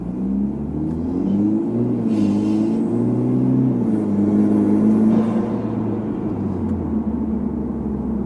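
A 2013 Hyundai Genesis Coupe 2.0T turbocharged engine drones and rises steadily at close range, with faint hissing whooshes of the turbo and blow-off valve over the rumble.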